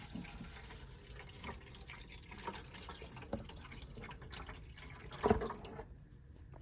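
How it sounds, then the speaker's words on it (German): Water poured from a jug into the tank of a DeLonghi Eletta Explore ECAM 450.55 coffee machine, a faint, steady trickle and splash running throughout with a brief louder knock near the end. "ich fülle jetzt mit meinem Wasserkrug das Wasser entsprechend"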